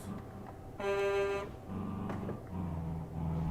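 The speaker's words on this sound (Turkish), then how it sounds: "Havalı kornamızı da taktık." Air horn on a minibus in Euro Truck Simulator 2, one loud tonal blast lasting under a second over the steady drone of the engine and road.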